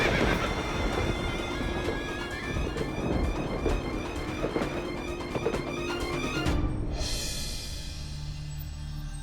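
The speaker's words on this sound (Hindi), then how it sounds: "हमने घोड़े के चलने की आवाज सुनी" A horse walking through a haveli, hooves clip-clopping in a steady rhythm alongside neighs and whinnies, loud and close, with a sharp shift in tone near the end.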